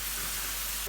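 Chana dal sizzles in hot oil while frying for crispy nimko, a dense, even hiss of bubbling oil, close and continuous through a brief moment.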